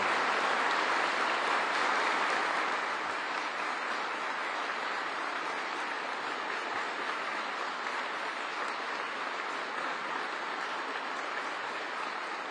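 A crowd applauds steadily and loudly at a mayor's budget address in Providence, a dense wash of clapping that holds throughout with a slight drop after the first few seconds.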